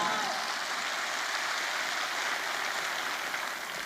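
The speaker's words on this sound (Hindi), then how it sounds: "मिस्टर संजीव सर के एक बार जोरदार ताली।" An audience at an AWPL event in Patna claps for Mr. Sanjeev, a soft, far-off wash of many hands that sounds almost like rain and holds steady throughout.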